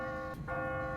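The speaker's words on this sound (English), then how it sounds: "What kind of church bell goes off at 20 past the hour?" A church bell in The Walking Dead video game rings with a sustained, resonant tone that is briefly interrupted before sounding again, heard fairly faint and alone.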